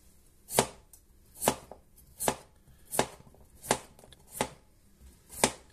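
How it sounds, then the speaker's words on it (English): Potatoes sliced into wheels with a knife on a cutting board, eight crisp, evenly spaced chops landing at a slow, steady pace, close and clear with no talking. "And next, we'll slice them up."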